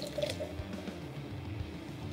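Singlecut Beersmiths Hop Sounds ale, a 5% pale ale, poured into a glass: soft, faint liquid splashing and filling for about two seconds, quiet and close.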